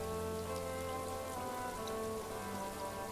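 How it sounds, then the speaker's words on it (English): Steady rain in a video game patters across a surface in a continuous, even wash, with a faint low hum underneath and no voices. "There will be rain and thunderstorm"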